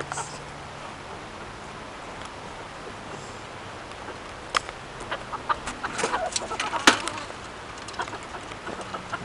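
Chicken clucking amid rustling outdoor background noise, with scattered sharp clucks and squawks growing busier toward the middle, fairly close but not loud, with some faint talk.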